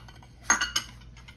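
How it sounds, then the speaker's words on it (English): Cornstarch and sugar being stirred together in a pot for an old-school lemon meringue cream pie, heard as a couple of quick close clinks of a utensil against the pot with no talk. "I'm going to mix my cornstarch and my sugar"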